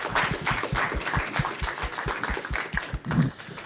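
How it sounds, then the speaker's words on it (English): An audience applauds speakers at a student public narrative event on social issues, with steady, fairly close rhythmic clapping sustained throughout. "Let's clap again for all of our speakers"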